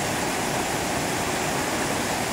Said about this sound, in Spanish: Así están dejando el arroyo las últimas lluvias registradas.